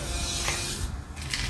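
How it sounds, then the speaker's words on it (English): Prestone carpet and upholstery cleaner sprays from a can, likely onto floor mats in a 1974 Dodge D100 pickup, as a steady close hiss lasting the whole moment with slight breaks and no talk. "So let's see if this stuff will spray out any."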